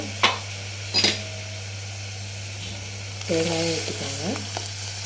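Sundal kuzhambu curry with ground coconut paste simmering and sizzling in a pan over a steady background hum, with a few sharp clicks of stirring and a brief voice speaking near the end.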